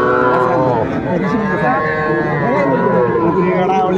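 Drawn-out mooing from young bull calves nearby, overlapping low calls, with people chattering in the background of a busy cattle market in Dhaka.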